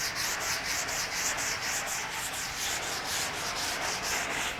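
A sanding block rubs steadily back and forth over a 1932 Ford metal body panel, giving a close, continuous gritty scratching with a quick regular stroke rhythm and no voices.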